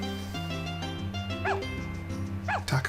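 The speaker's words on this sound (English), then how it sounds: "It looks like we have some stray dogs here." Stray dogs in the farming game Another Wonderful Life give a couple of short yips and barks over steady game background music.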